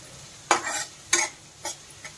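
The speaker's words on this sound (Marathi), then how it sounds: "कांदा सोबतच मी कढीपत्ता टाकते, धुतलाय ना तो, उडतो दळादळ, फटफट फटफट असं उडतो तो" Washed curry leaves and onion hit hot oil for kurma rice. Four sharp spluttering bursts sound up close, each fading quickly into a low sizzle.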